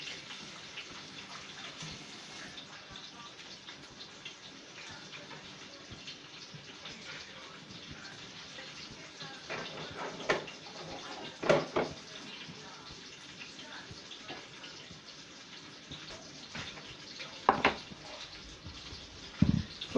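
Tap water runs steadily while vegetables are rinsed for a beef roast in a home kitchen, a continuous wash with occasional louder splashes and clatter, and faint talk now and then.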